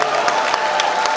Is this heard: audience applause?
yes